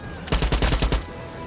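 A single burst of rapid automatic gunfire from Far Cry 6, roughly ten loud, close cracks over about a second, followed by quiet.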